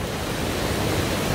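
A waterfall pours into a deep pool in the Jijangsan mountain valley, a steady, dense rushing roar heard close with no voices.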